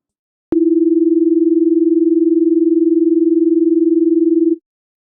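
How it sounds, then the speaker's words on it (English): A single steady electronic tone, two slightly different frequencies played through one speaker, producing a smooth pulsing beat wobble; it holds loud and alone for about four seconds, then stops. "Play two slightly different tones through one speaker and the speaker will oscillate with the carrier frequency and have the additional wobble of the beat frequency"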